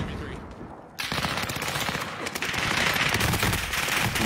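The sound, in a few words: gunfire in a video game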